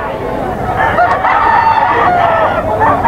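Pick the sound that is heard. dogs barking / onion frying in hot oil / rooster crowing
rooster crowing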